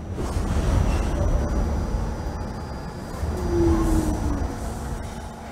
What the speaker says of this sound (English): This is a Manhattan-bound N train.